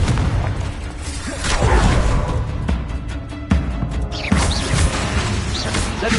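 Confringo fire spells burst in the video game Hogwarts Legacy, loud booming blasts with crackling, crashing debris and whooshes, several impacts in close succession over a dense, continuous game soundscape.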